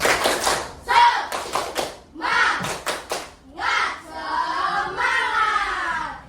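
A class of children repeats the 'tepuk semangat' clapping chant, crisp clusters of hand claps interleaved with shouted group chanting, close and lively.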